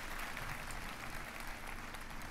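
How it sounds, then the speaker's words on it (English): Sustained applause from a large audience at the EA E3 2017 press conference, a steady dense wash of clapping that fills the whole short stretch without a break. "Round of applause for the drum line"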